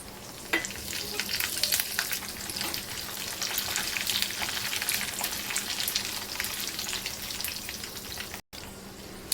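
Green chillies and curry leaves spit and sizzle in hot tempering oil with mustard seeds for a coconut chutney, a loud close crackle with stirring scrapes that cuts out abruptly near the end.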